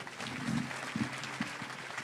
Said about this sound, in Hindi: तालियां बजाई जोरदार।